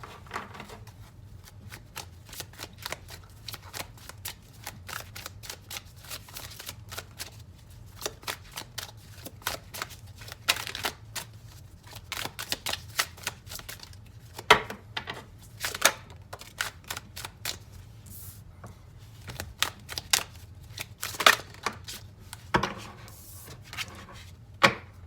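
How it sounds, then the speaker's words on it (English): Tarot cards are shuffled and riffled close by, making soft papery flutters and crisp snapping bursts that come in irregular clusters, with faint handling sounds between them and no talking. "I'm going to go ahead and put these cards back. Gonna pull out 2 or 3 more cards"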